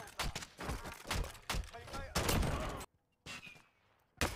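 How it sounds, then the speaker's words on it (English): Rapid bursts of automatic gunfire in Call of Duty Warzone, a loud fusillade of repeated volleys with short pauses and a final burst at the end. "Guy shooting at me underneath the wing, Liz."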